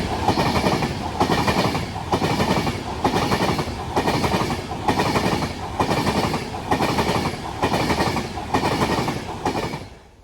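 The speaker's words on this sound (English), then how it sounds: "here comes the heavily delayed avanti West Coast service running from Liverpool Line Street to London Euston" An Avanti West Coast passenger service on a diversion along the North Staffordshire Railway passes close by, loud and steady, with a regular clickety-clack of wheels over rail joints and the roar fading at the very end.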